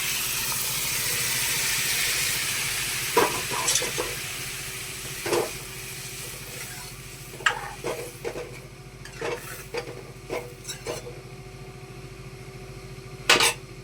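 Brinjal sabji frying in a pan, a steady broad sizzle running throughout, broken by several sharp clinks and stirring knocks near the mic as hot water goes in.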